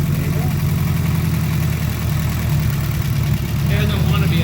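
A rebuilt Toyota Corolla engine runs at a raised idle with a loud, steady low drone close by, and a voice speaks briefly over it near the end.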